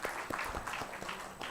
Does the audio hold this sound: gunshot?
no